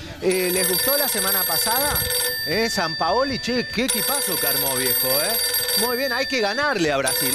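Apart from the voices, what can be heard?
telephone ringing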